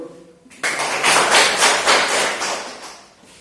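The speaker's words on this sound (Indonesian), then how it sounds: "Oke, tepuk tangan." Classroom students clapping hands together, a sudden burst of dense, fairly loud clapping that swells and then tapers off after about three seconds, preceded by a brief voice.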